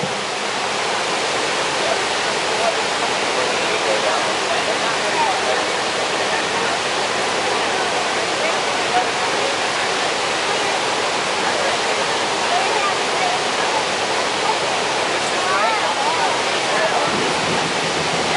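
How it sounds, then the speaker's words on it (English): Water pours steadily into an Erie Canal lock chamber at Lock 32, a dense continuous rushing roar like a waterfall that holds at an even level for the whole stretch without a break. "Once the water comes in, you'll hear a boom sound with those gates being pushed closed"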